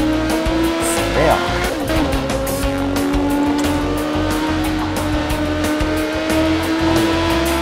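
The engine of a motorcycle ridden at night in the racing game Burnout Paradise drones steadily and loudly for the whole stretch, with tire and skid noises from the game and someone talking over it.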